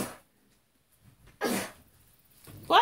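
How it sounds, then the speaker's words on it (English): Sneezes from a person, two bursts separated by a short pause, close and fairly loud against a quiet room. "But first I was coughing, then I had sneezed twice."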